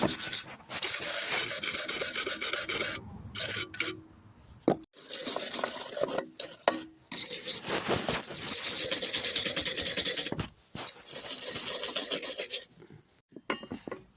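Broken moped muffler being scrubbed clean before welding, a loud close rasping rub in long sustained strokes broken by short pauses, with no talking.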